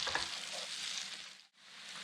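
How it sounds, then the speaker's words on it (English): Shallots and garlic sautéing in a pan give a close, steady sizzle with light stirring, which briefly drops out before the frying noise resumes, no voices. "And we're going to saute these for about 30 seconds."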